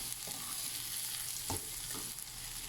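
Chopped onion sautés in a pan for Filipino pinakbet, a steady low sizzle running throughout with a couple of soft stirring scrapes partway through; fairly quiet and without voices.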